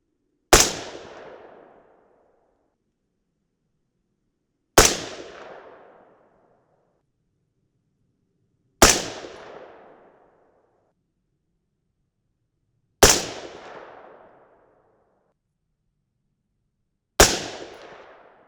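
Five loud, close rifle shots from an AR-10 in 6.5 Creedmoor firing 130-grain Sierra GameChanger bullets, evenly spaced about four seconds apart, each a sharp crack with a short decaying tail into silence.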